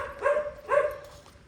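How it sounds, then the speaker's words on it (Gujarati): A dog barks twice on a hill-station outing, two short mid-pitched woofs about half a second apart, moderately close and alone against quiet outdoor background noise. "કૂતરો હવ હવ કરે છે"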